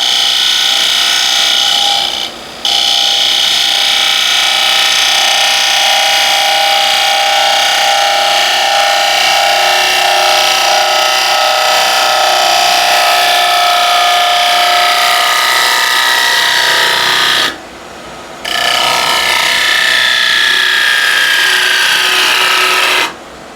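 A wood turning cut on a lathe makes a loud, continuous scraping rasp that runs steadily, broken by two brief pauses.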